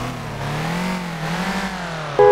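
Car engine in the driving game City Car Driving revving steadily and droning loud and close, pitch rising and falling slightly, with a brief tonal game sound near the end.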